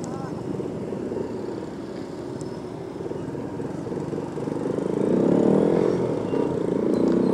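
Motorcycle engine droning steadily through road traffic on a wet street, a continuous close hum that swells louder toward the end, with a voice faintly present.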